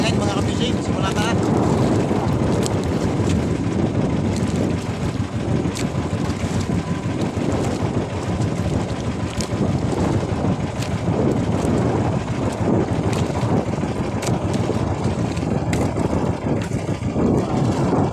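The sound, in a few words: strong wind blowing over a fishing boat at sea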